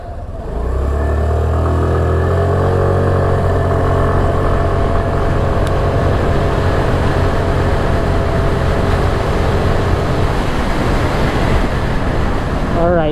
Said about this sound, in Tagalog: So test naman natin ngayon yung acceleration ng motor na to, no?